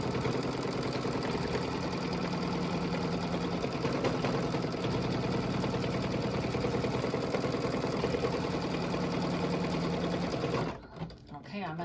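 Embroidery sewing machine stitching a brown satin-stitch border on a Kimberbell carrot house design, a steady, loud mechanical whir with a rapid needle rhythm running nearly the whole time before stopping abruptly near the end.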